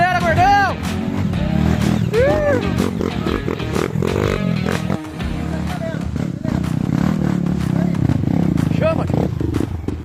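A motocross dirt bike on a rough trail snarls through rising and falling revs close by, while people shout and cheer over the engine throughout.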